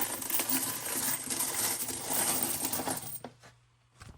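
Ninety-percent silver dimes pour and clink into a pile, a dense continuous metallic jingling for about three seconds, then a few isolated coin clicks settling afterward.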